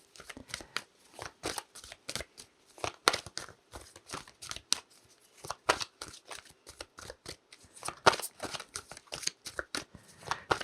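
Tarot cards are shuffled by hand at close range in quick irregular riffles and soft papery slaps, with brief pauses between bursts.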